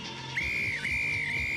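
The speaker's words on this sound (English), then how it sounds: "that is the full-time whistle" At a college rugby championship match, the referee blows one long, steady full-time whistle with a brief dip in pitch, loud over crowd noise.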